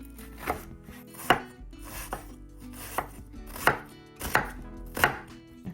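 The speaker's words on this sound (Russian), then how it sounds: "Нарезаем четверть кольцами." Close-up knife chopping a red onion on a cutting board, about seven crisp chops at a loose, uneven pace, with no talking.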